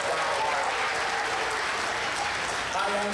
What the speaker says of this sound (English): And a big round of applause for the Smithsonian Institute and their amazing staff.